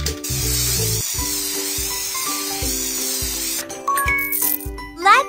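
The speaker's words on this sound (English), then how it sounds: "Shake it and spray it." In a pony care video game, a spray can is shaken and sprayed, giving a hissing spray sound over bouncy background music, followed by bright chimes and sparkling tinkles near the end.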